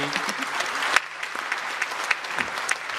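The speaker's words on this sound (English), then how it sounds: "a huge round of applause for RACV Solar" Audience applause at a community climate summit in Greater Bendigo, honouring RACV Solar: a steady wash of many hands clapping from a seated crowd, with a few sharper claps standing out.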